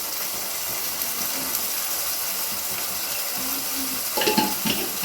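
Tomato and chili powder masala with salt sautéing in a pan for a dried prawn, brinjal and drumstick curry, a soft continuous sizzle with a few louder stirring clanks near the end.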